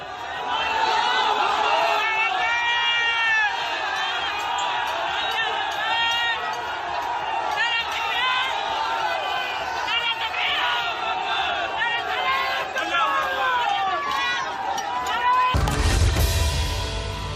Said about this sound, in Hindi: इस भीड़ का शोर और पागल होते मंसूबों यह बताने के लिए काफी हैं